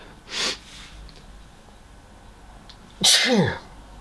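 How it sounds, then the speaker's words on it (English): A short sharp inhale followed a few seconds later by a loud, close sneeze, then quiet. "So I've got a sneeze brewing, and here it comes."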